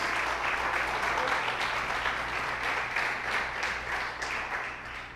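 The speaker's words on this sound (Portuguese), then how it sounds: "Aplauda esse Jesus" A church congregation breaks into steady, sustained applause during a Portuguese-language sermon on eschatology. The clapping is dense and continuous, moderately loud, and fades slightly toward the end.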